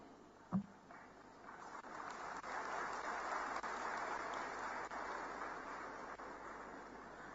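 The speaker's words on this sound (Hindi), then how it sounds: "बहुत कम तालियां बजी" Sparse applause from a large audience at a national Ayurveda summit in a hall at Mahatma Mandir, heard as a faint, steady, hissing wash of distant clapping for several seconds after a single sharp thump.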